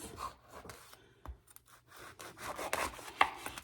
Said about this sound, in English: I take my passion fruit and I just cut it in half